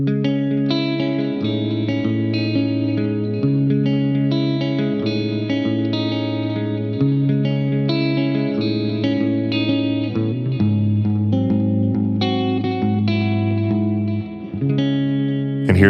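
A clean-tone electric guitar sent through a Phenyx Pro PTG-11 wireless guitar system plays a steady flowing pattern of sustained chords and picked notes, loud and alone with no talking.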